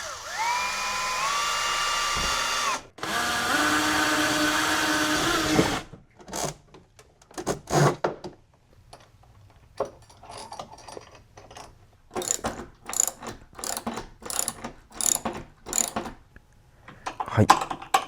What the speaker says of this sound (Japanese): これとプレート、こういうのを使って、もうがっつり穴開けて留めていきます。